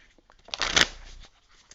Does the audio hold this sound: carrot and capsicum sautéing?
no